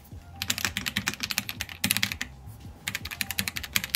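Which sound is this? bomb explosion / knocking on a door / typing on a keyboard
typing on a keyboard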